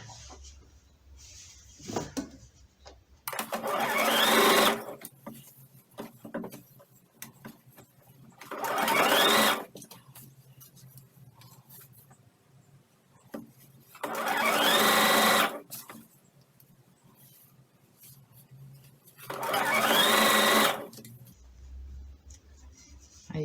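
Sewing machine stitching a fabric elephant pillow near the tail, four separate loud whirring runs of rapid stitching with quiet pauses and small handling noises in between.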